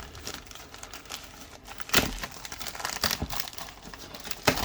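Cardboard package for Jordan 1 low shoes being cut open up close, a run of faint crinkling, tearing and scratching sounds with a few sharper rips, no voices.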